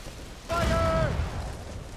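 Ship cannons fire in Assassin's Creed Rogue, a deep booming roar with a rumbling tail over a sustained tonal layer, loud and close, lasting about a second.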